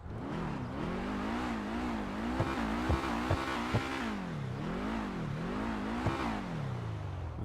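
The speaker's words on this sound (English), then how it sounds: "As for how this muscle car sounds," A deep, throaty engine of the Rapid GT Classic muscle car in GTA 5 Online revs up and down in repeated waves, with a few sharp clicks as gears shift, loud and continuous.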